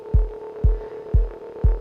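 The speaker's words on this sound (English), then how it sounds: "I just turned the play mode around, so this is now playing like a loop but reversed" An Elektron Digitakt plays a sample loop in reverse, each hit swelling up into a thudding low cutoff four times in a steady rhythm over a sustained tonal drone, close and alone.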